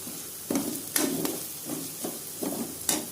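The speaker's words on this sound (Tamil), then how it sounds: "இது ஒரு ரெண்டு நிமிஷம் நல்லா வதக்குங்க" Ginger garlic paste sautéing in a pan: a steady close sizzle, broken by rhythmic spatula strokes about every half second, each a soft scrape with a brief knock against the pan.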